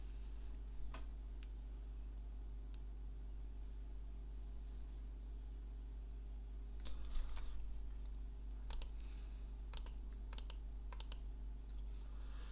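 A page title is typed on a computer keyboard: scattered light key clicks, then a quicker run of taps near the end, over a steady low hum, with no one speaking.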